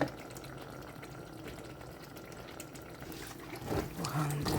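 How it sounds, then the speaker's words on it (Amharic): Genfo porridge simmering in a pot gives a steady, soft bubbling and gurgling that grows slightly louder near the end, with no voices. "ውሃው እንደዚህ ዙሪያውን ትክትክ ሲል ቆንጆ ነው።"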